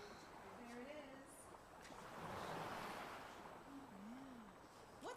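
Soft ocean surf washes in a slow, distant swell, faint and steady, with a few thin whistling tones drifting above the wash.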